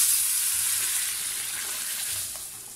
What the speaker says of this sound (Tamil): இப்போ சல் என்று தாளித்து கொட்டலாம்.